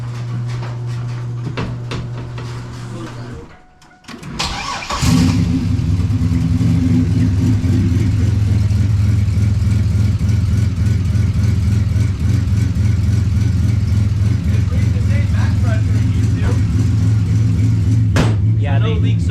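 Turbocharged 3800 car engine in a garage, a low idle hum cuts out briefly, then a starter crank catches into a steady loud rumbling idle that runs on evenly to the end.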